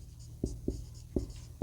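Chalk or pen writing on a board during an online Hindi class, four quick scratchy strokes spaced irregularly, fairly close and distinct against a low steady hum, with no talk.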